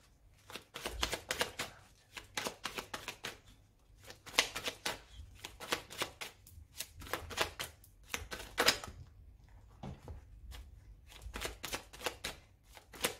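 Tarot cards shuffled and cut by hand for a romance reading, a steady run of crisp riffling bursts and soft slaps, close and fairly quiet, with no talking.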